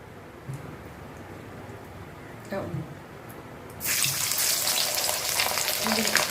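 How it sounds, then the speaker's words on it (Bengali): Katla fish pieces frying in hot oil, a quiet stretch with a couple of knocks giving way to a sudden loud, dense sizzle that holds to the end. "মাছ ভাজা হচ্ছে"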